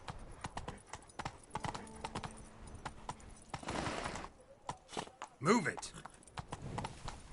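Hooves of the horse Roach clip-clop rapidly in a galloping rhythm in The Witcher 3, close and steady, with someone speaking over them and a brief vocal burst near the end.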